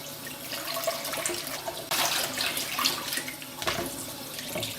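Cold tap water runs steadily into a bowl of blanched peas in a sink, a continuous close splashing stream with a few louder gushes as the flow shifts.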